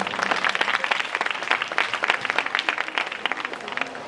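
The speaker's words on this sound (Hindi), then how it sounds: "जोरदार तालियां के लिए।" Enthusiastic applause from an audience at an event about stopping violence against women, dense clapping heard close and continuous for about four seconds.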